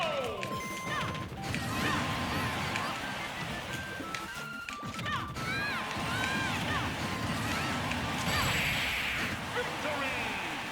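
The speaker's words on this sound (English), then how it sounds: "Forward smashes with the Megawatt" Heavy forward smash hits with the Megawatt in a Super Smash Bros World of Light battle against a Kirby team: repeated loud crashing impacts and whooshes pile up in a dense, continuous wash of game music and effects.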